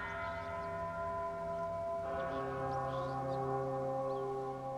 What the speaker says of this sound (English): There's that bell again.